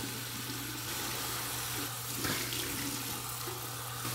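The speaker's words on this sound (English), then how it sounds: "All right, we're going over to cold water now." Cold water streams from a bathroom sink tap for a post-shave rinse, a steady close splashing flow with a brief louder gush midway and no speech.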